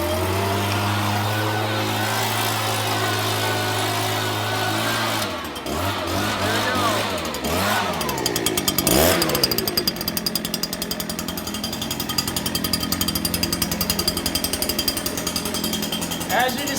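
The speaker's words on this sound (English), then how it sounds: "First, you got to get out your leaf blower." A gas-powered leaf blower runs loud and close, a steady droning engine note for several seconds, then dropping and surging as it revs up into a harsh, buzzing roar that holds steady to the end.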